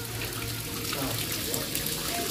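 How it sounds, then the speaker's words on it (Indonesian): Clear spring water pours steadily from public bathing spouts fed by a mountain spring in a rural Sundanese village. The rush is constant and full, with faint voices underneath. "ada pancuran ataupun pemandian umum sahabat yang airnya sangat jernih dan melimpah, yang bersumber langsung dari mata air Ciburial"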